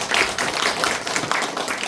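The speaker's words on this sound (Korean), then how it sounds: "모든 분들께 다 감사드리면서 같이 박수 한번 쳤으면" A forum audience in a packed hall at a Korean community banking debate claps together, a steady dense patter of many hands lasting under two seconds, moderately distant and without speech.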